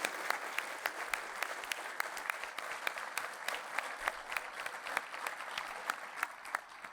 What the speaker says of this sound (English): we should have a big round of applause for all our staff members here.